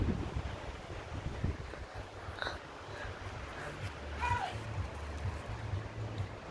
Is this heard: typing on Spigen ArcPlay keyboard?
no